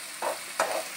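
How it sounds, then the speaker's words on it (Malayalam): Onions frying in a pan for a Kerala-style chicken curry are stirred twice, each scrape rising sharply over a steady, close sizzle. "നമുക്കിതൊന്ന് തുറന്ന് ഇടയ്ക്കിടയ്ക്ക് ഒന്ന് ഇളക്കി കൊടുക്കണം, അല്ലെങ്കിൽ അടുക്കി പിടിക്കും."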